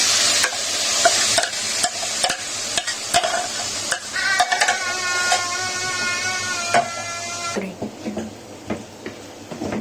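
Beef liver (kaleji) fries in ghee on a tawa, giving a close, steady sizzle broken by repeated sharp spatula clacks and scrapes, with a brief squeaky metallic rasp midway and the sizzle dropping off near the end.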